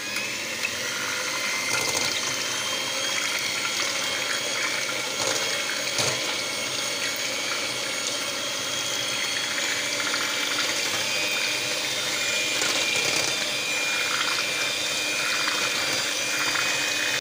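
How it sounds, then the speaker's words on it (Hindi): Electric beater whipping cream in a bowl for an Italian tiramisu: a steady, loud motor whir runs without pause, with no talking. "तो अब इसको हम करेंगे बीटर के साथ अच्छे तरीके से व्हिप।"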